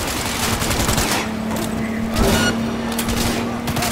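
Bursts of automatic gunfire crackle during a car chase in Cyberpunk 2077, rapid shots rattling over a rumbling vehicle engine, with a voice shouting briefly amid the barrage.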